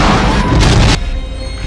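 A starship's weapons fire in a Star Trek II: The Wrath of Khan trailer, a loud booming blast that crashes for about a second and then drops into a rumbling tail.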